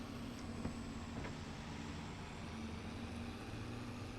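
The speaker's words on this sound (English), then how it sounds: "And we have a nice big truck coming against us." A large truck drives past on a road in Farming Simulator 22, a steady low engine drone and rumble holding throughout at moderate level, with no voices.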